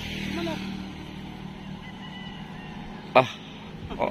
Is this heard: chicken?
yes